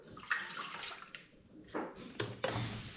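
Milk is poured into the pan of a bread machine as its first liquid ingredient, making brief close splashing and gurgling bursts with short pauses between them and no one talking.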